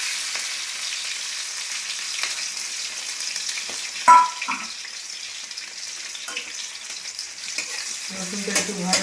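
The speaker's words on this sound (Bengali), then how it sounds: "আমি রসুন আর কাঁচা লঙ্কাটা একটু ভেজে নেব।" Garlic and green chillies frying in hot oil in a home kitchen pan, a steady close sizzle with scattered crackles and a sharp clink midway, no voices.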